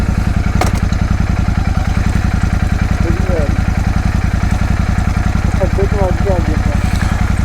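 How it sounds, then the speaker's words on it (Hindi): A Royal Enfield Super Meteor 650 motorcycle, said to have a sound problem, idles after starting. Its close, loud engine beats in a fast, even rhythm with a clattery edge, continuous throughout. "पहले स्टार्ट करी बाइक।"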